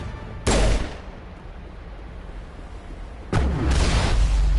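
Two heavy gunshot blasts in Mass Effect, fired through a wall, each a loud booming burst with a rumbling tail, the second followed by sustained roar.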